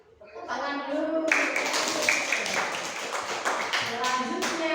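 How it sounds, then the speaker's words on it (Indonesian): A class of children clapping their hands together in a classroom, a dense, sustained burst of claps that starts after a second and keeps going steadily, with young voices mixed in at the start and end. "Tepuk tangan dulu."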